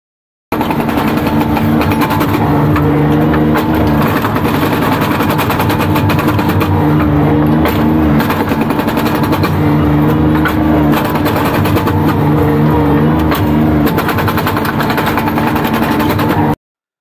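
A Bobcat S70 skid steer fitted with a Soosan hydraulic hammer breaks up concrete in California: loud, continuous rapid hammering over a steady diesel engine drone, close by, with no talking.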